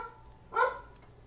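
A single dog bark, loud and fairly close, rises briefly out of quiet room tone, with a faint second yip just after.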